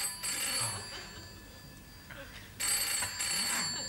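An old-fashioned telephone bell ringing indoors in a British sitcom scene, two bursts of bright metallic trilling separated by a short pause, fairly close and clear over a quiet room.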